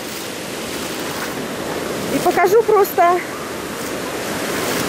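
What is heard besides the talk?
rough ocean waves surging at the beach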